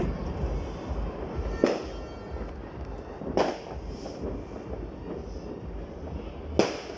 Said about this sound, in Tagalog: Nood ka ng fireworks!